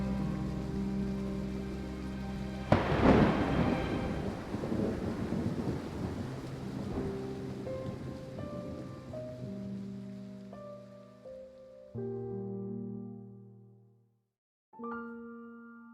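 Steady rain patters while a sharp thunderclap breaks in early and rumbles away, with soft musical tones rising over the storm and ending in a short pause.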